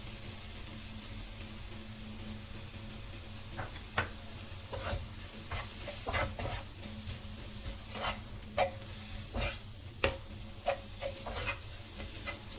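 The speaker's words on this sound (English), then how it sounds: "Stir for a few seconds," Roasted curry powder fries in a pan for a Sri Lankan young jackfruit curry, a low steady sizzle under a series of quick, sharp scraping stirs that grow busier midway, with no one speaking.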